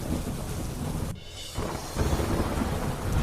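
Monsoon rain falls steadily in Panchmahal, Gujarat, a loud, dense wash of noise with low thunder rumbling beneath it and a brief dip in intensity midway.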